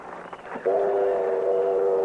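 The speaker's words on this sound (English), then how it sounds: "The train's pulling in." A steam train pulls into a western town station, low rumble and clatter giving way to a loud sustained whistle that holds steadily to the end.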